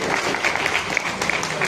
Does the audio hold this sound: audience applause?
yes